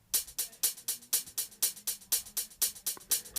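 Crisp hi-hat hits in an even, quick eighth-note pattern, alternating louder and softer strikes, playing alone and close.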